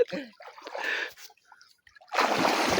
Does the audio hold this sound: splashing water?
yes